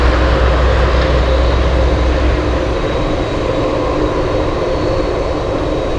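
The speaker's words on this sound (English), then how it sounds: "looks like we have a U.S. Air Force Dornier" A U.S. Air Force Dornier C-146A Wolfhound turboprop at Anchorage Airport drones loudly and steadily, a strong low engine rumble with a faint whine, holding constant and alone.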